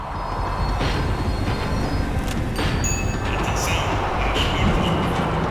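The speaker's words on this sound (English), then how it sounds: "The tram was slowing down, and I'd only just gotten on board." Tram decelerating in the video game Max Payne 3, a steady dense rumble of wheels and rolling stock with faint high squeals and clanks, continuous and fairly loud throughout, no talking.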